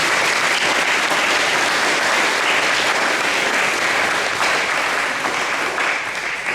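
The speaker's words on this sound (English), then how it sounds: "So let's give Richard and Jacob a big round of applause" A variety show audience gives Richard and Jacob a big round of applause, a loud, continuous wash of many hands clapping that holds steady for several seconds and only slightly thins at the end.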